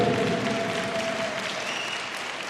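A crowd claps steadily at a donation ceremony for disabled students in Ivory Coast, loud at first and tapering slightly, with a faint voice or tone running underneath.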